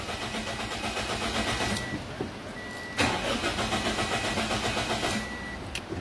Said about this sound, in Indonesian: saya akan coba starter ya